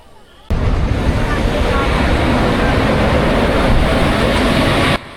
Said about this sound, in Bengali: আমাদের ট্রেন ছেড়ে দিল বর্ধমান স্টেশন।